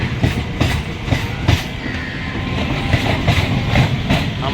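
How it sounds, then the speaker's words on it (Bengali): Mail and local trains pull out near Howrah station, loud rolling rumble with rhythmic clickety-clack of wheels over rail joints, close and continuous with heavy low engine drone. "একটা মেল বেরোচ্ছে, একটা লোকাল বেরোচ্ছে।"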